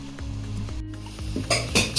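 Tomato sauce and masala sizzle in melted butter in a pan, with a soft frying hiss under repeated scraping stirs and bursts of louder crackling toward the end, no speech.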